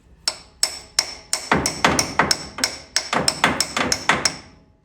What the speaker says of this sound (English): Tap the top part in till that's in there.